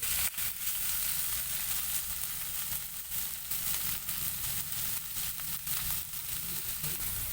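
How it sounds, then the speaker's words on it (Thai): Stir-frying in a pan, sautéing ingredients until fragrant before water is added: a steady loud sizzle with scraping stir strokes throughout, no talk. "อันนี้เราก็ผัดรวนไปแล้วนะครับ ลวนไปให้หอมก่อน สักห้านาทีเนาะ"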